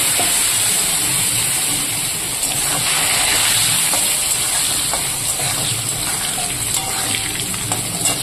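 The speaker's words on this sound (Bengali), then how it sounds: "এবার এই তেলে আমি আলুটা আগে একটু ভেজে নেব" Potatoes fry in hot oil with cumin seeds in a wok, giving a steady, loud, dense sizzle and hiss that holds without a break throughout.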